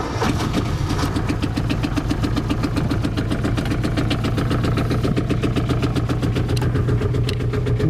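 An old boat engine, a Mahogany boat's inboard, cranks and catches, then settles into a steady, loud, close idle with a regular low chugging throb that runs the whole time, no talk.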